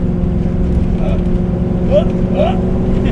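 A 1969 AMC Rambler wagon hot rod with a Ford Racing limited-slip and 3.73 final drive at full throttle, a loud steady engine drone from inside the cabin while people talk over it.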